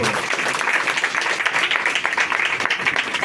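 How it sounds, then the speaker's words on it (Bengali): An audience at a church sermon claps loudly together, a dense burst of applause lasting a few seconds with a voice briefly heard beneath it. "সবাই একটা জোরে হাত তালি দিয়ে গৌরব"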